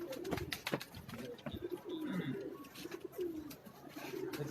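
High flying pigeons coo softly and repeatedly on a rooftop in Karachi, their low, rolling calls overlapping at close range over faint background noise.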